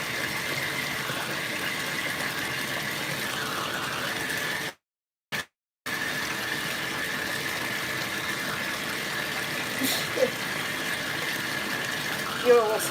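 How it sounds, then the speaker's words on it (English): Steady, noisy water running continuously at moderate level, like a tap or pump filling a container, with a brief cut to silence midway and a few small knocks near the end; speech probability present but no clear words. "Water's noisy, hang on."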